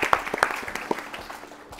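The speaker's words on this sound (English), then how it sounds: "Let's clap for all of them" A few scattered claps from a quiz-competition audience applauding the teams, several sharp hits at the start that thin out and fade within two seconds.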